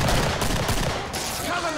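Rapid gunfire in the first-person zombie shooter Killing Floor, a loud, dense burst of overlapping shots filling the whole short moment, with no talk heard over it.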